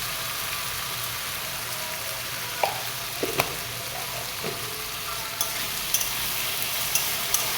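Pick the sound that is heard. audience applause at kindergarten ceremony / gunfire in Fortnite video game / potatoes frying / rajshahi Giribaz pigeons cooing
potatoes frying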